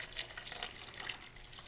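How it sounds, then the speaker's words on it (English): Freshly brewed hot tea poured into a pitcher that already holds sugar, a steady faint splashing stream of liquid running for a couple of seconds with no voices. "I'm going to pour the tea right in it"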